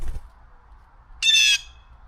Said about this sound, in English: I did just hear the chickadee.